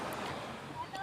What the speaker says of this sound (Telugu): అలల సౌండ్స్